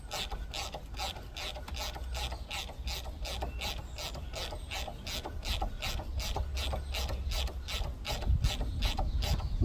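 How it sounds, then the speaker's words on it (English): Socket wrench ratcheting steadily while undoing a front brake caliper bolt on a Honda Forza 125 scooter, a rapid, even series of close, crisp clicks with no talk. "The best thing to use is get a socket wrench with a 5mm adapter on it."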